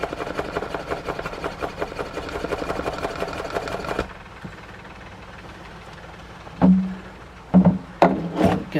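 A leather possibles pouch being burnished by fast, light skimming strokes gives a rapid, even rhythmic rubbing that stops midway, followed by quieter room sound and a few brief knocks.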